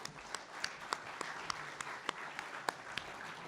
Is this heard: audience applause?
yes